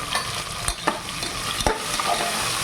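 Tomato, green chili and potatoes fry in oil for a khichdi, a close sizzling bed broken by several sharp scraping stirs of a spoon against the pan.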